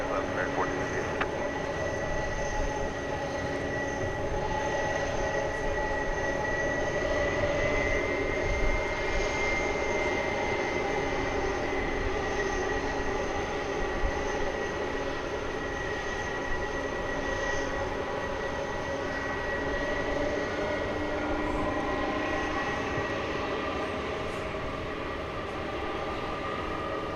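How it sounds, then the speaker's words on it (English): A jet aircraft rumbles at DFW Airport at night, a sustained distant roar with tonal engine whine that swells gently and fades, while a voice speaks intermittently over it. "This aircraft going to Chicago Rockford International Airport"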